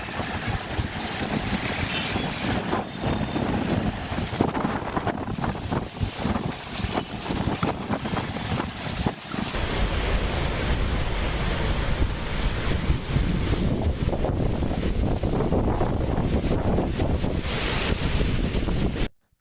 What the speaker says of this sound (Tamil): தொடர்ந்து பலத்த சூறைக்காற்று வீச தொடங்கியது.